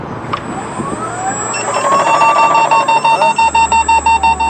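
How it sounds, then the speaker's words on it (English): A Tesla car's built-in hardware alarm goes off, a loud rising and falling electronic siren wail that settles into a steady, rapidly pulsing beep toward the end, with no one talking. "And the hardware alarm went off"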